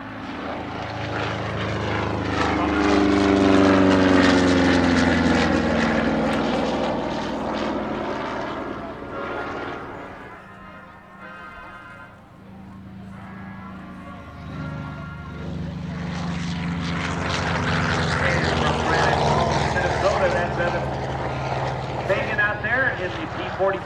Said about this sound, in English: we've got our P-51 Mustang with that beautiful sound of the Rolls-Royce drum